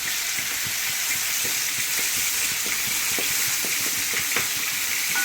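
Marinated chicken pieces with kanthari chilli spice frying in a hot pan, a steady close sizzle with repeated scraping stir strokes throughout, no talking.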